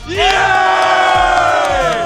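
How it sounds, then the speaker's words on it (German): A studio audience at the TV total Wok WM 2022 breaks into a loud, sustained roar of cheering and shouting that swells quickly and holds for about two seconds. "Jetzt einmal Applaus."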